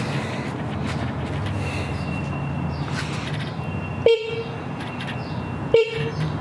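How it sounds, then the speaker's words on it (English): Two short honks from the horn of a 1986 BMW K100 motorcycle being built as a cafe racer, each a brief nasal toot spaced well apart, close by over a steady background hum. "horn is right down here"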